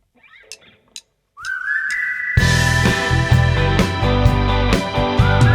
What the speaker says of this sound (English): the whistle's pre-recorded because it's impossible to whistle into a microphone